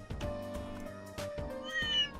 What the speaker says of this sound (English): Oh, that's a cat!